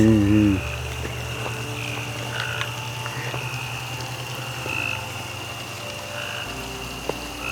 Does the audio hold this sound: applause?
no